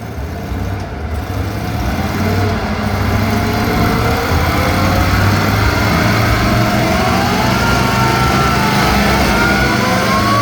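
Vintage Indian and antique Harley-Davidson motorcycles at a Wall of Death show at a gear-head gathering, a loud continuous engine roar with rising and falling revs, close and dense throughout.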